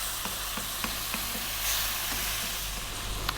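Tomatoes sizzling as they cook down in a hot pan for a British Indian curry, an even, dense frying hiss with faint clicks and pops throughout, no talking.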